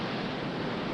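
Ocean surf at Rincon, Puerto Rico, during the 1968 world surfing championships, heard as a dense, steady roar of breaking waves with no voices.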